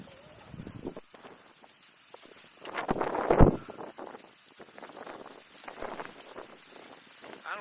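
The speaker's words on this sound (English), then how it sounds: "It's really windy up here, so sorry if it's bad on the camera." Wind buffets the microphone at a scenic hilltop spot, coming in uneven low rumbling gusts with one loud surge near the middle amid quieter stretches.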